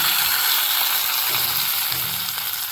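Dried red chillies and curry leaves frying in hot oil for a cucumber perakku, a loud, dense, close sizzle that holds steady throughout.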